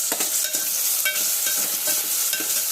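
Handvo batter fries in oil with a steady, close sizzle and periodic soft scraping or stirring strokes roughly every half second, with no talk over it.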